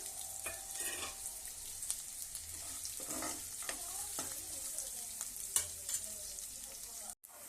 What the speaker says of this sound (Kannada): ಗೋಡಂಬಿ ಇದ್ರಾಗೆ ಹಾಕ್ತೀನಿ ರೀ